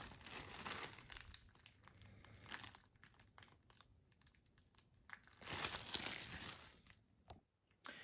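Plastic bag crinkling and rustling as it is handled during motorcycle work, soft close-up bursts of crackle with brief quiet gaps.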